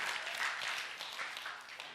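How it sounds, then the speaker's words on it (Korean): A church congregation claps together in a brief burst of applause, steady and fairly loud for about two seconds. "박수 한번 쳐드려야겠네"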